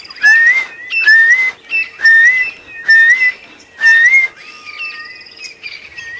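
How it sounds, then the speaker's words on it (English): A tropical boubou calls loudly and close, five clear whistled phrases repeating in a steady rhythm about a second apart, then softer trailing notes over a quiet background. "That's the boo-boo calling there, you can hear it going."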